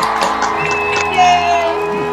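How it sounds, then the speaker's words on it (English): Church congregation cheering and whooping for new members, a short loud burst of crowd voices with sustained tonal noise and a few shouts, fairly close and continuous throughout. "let's offer a round of applause for the newest members of our church family"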